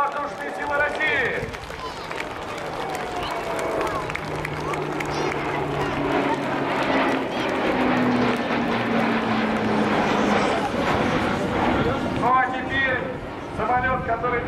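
An An-140 turboprop aircraft drones overhead at an airshow, its engine tone swelling and fading as it passes, while an announcer talks over a crowd.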